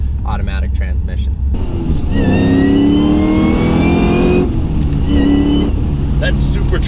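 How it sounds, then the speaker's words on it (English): A 1000 HP Cadillac CTS-V with a built automatic transmission and Cook's exhaust accelerates with a rising supercharger whine over the engine roar, close and loud, with someone talking over it. "That supercharger whine is awesome."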